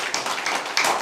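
A church congregation claps during a sermon, a brief burst of hand claps lasting about a second.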